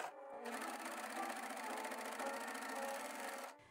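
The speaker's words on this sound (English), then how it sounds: "I sew them together and clean up the edges with my serger." A serger finishes the seam edges of a sleeve joined to its gathered cuff band in one steady, close, rapid whirring run of about three seconds, with an abrupt start and stop.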